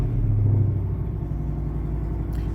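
A loud pickup truck's engine idles with a heavy, steady low rumble close by, after a brief rise in level at the start, with no voices.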